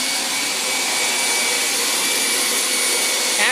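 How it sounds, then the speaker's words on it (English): A vacuum cleaner runs steadily and loudly throughout, a continuous broadband whine and roar with no pauses, close to the microphone and with no talking over it. "Big, scary vacuum cleaner."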